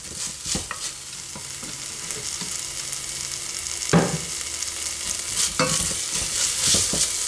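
Onions fry and are stirred in a pan for a black bean chilli soup, a steady close sizzle broken by a few sharp scrapes and knocks of a utensil against the pan.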